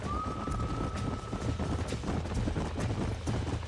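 Horses gallop in the video game Red Dead Redemption, a dense rumble of hoofbeats with a faint whistle-like tone at the start, loud and steady throughout.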